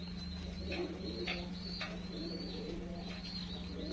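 Soft pigeon coos and a few chirps from birds bathing in water on a warm day, repeated gentle calls over a low steady background hum, moderately close with no talk.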